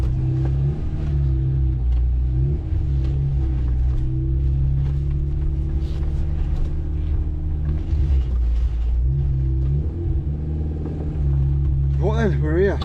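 Van engine running steadily in reverse, a loud continuous low rumble throughout with a brief rise in revs near the end.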